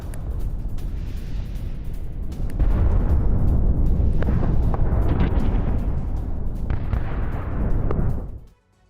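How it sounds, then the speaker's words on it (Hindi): Explosions from a Ukrainian drone attack in Belgorod boom out in a heavy rolling series, several distant-sounding blasts and cracks layered over a continuous low rumble that cuts off abruptly near the end, no talking. "यूक्रेन ने ड्रोन से कई विस्फोट किए हैं।"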